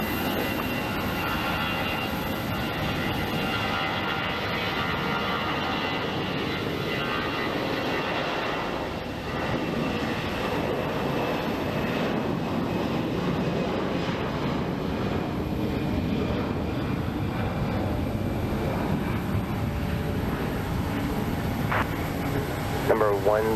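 A plane takes off at Phoenix Sky Harbor International Airport, with a steady, continuous engine roar at middle distance under faint tower radio chatter throughout, plus a short beeping near the end.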